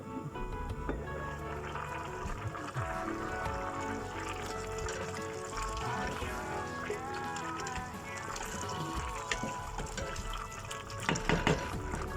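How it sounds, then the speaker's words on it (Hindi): Water is poured into a cooking pot while making chicken tikka rice, a continuous splashing fill under busy kitchen noise and background music. "ये देखिए, पानी थोड़ा सा और डालेंगे।"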